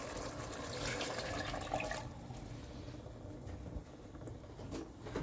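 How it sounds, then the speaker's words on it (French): Water poured from a bowl into a lasagna dish in a home kitchen, a soft continuous splashing stream for about two seconds, then quieter trickling and faint handling, close and without talk. "On va mettre 2 bols comme ça d'eau."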